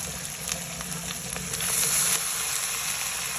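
Taro leaves (laing) tipped into a sauté pan, setting off a steady close hiss of frying that swells louder partway through, with no talking.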